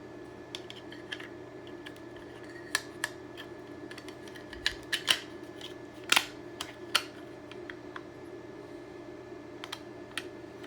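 Small plastic and metal parts of a Flirc case for a Raspberry Pi 5 clicking and tapping together during assembly, a sparse run of light close knocks and clicks with a sharper cluster in the middle.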